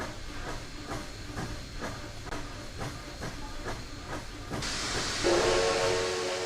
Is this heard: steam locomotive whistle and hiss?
yes